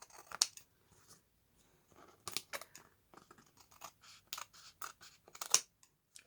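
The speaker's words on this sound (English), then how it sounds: "Just trim it a little bit more." Scissors trim a paper window envelope with several short crisp snips and rustling cuts in irregular bursts, close and clear against a quiet room with no talk.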